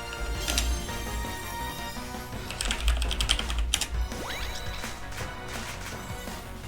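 Computer keyboard keys clatter in quick irregular bursts, close and moderately loud, with a few heavier clacks among lighter taps over steady background game music.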